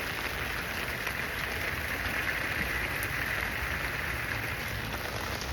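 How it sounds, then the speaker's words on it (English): Steady rain falls outdoors in a wide, even hiss of drops on surfaces, continuous and moderately loud with no voices over it. "It's raining finally here"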